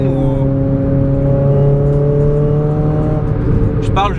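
A Renault Sport Clio R3 engine revs loudly and steadily up close, a sustained droning roar with strong, even harmonics that holds throughout with no break.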